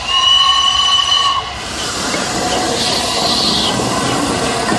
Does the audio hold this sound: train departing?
yes